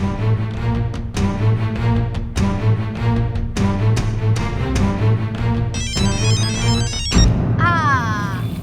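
A phone ringtone plays as a repeating musical pattern with sharp rhythmic beats, changing to a warbling electronic tone near the end.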